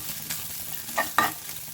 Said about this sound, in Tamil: இந்த டைமு நாம் திருவி வச்சிருந்த 2 பீஸ் தேங்காயை இது கூட சேர்த்து வதக்கிக்கலாம்.